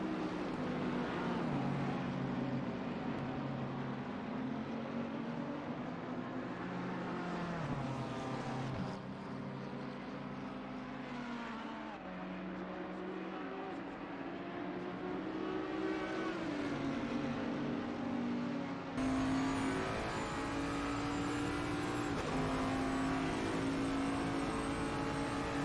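Race car engines drone and shift pitch continuously in Assetto Corsa Competizione during a hot-weather race, two cars battling closely for fifth place, the sustained engine roar steady and loud throughout with no talking.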